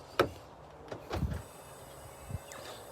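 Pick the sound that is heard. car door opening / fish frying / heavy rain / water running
car door opening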